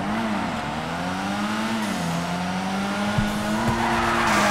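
A car drifts in GTA 5, its engine droning steadily while the tires squeal continuously through the slide, loud and close, with a couple of brief knocks near the end.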